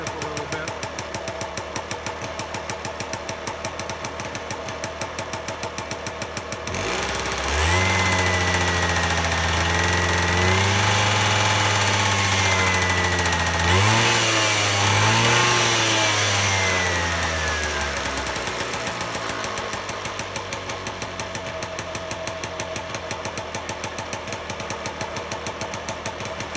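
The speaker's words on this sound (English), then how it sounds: "I'll go rev the bike up a little bit." Lambretta scooter engine fitted with a Ducati 12-volt six-pole stator, idling with a steady putter, then revved twice in rising and falling surges before settling back to idle, close and loud.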